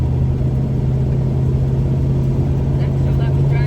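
A 1200 HP turbocharged Ford Mustang rumbles along during a ride, its low engine drone steady and loud from inside the car, with a voice talking faintly over it.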